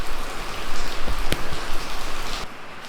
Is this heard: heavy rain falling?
yes